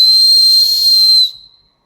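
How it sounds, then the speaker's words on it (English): A single loud, shrill blast on a Wazoo Firestorm survival buckle whistle lasts just over a second, then cuts off into silence. "I'll just give you a blast on the whistle."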